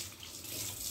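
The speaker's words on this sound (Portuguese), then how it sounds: "Daí com a pressão da água, ele vai saindo, ó." Tap water runs steadily into a sink while beef bones are washed under the stream for bone broth, a soft continuous hiss with no talk.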